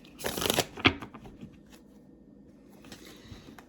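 Tarot cards riffled and shuffled in a quick burst up close, followed by a snap and some softer handling and faint rustling afterward.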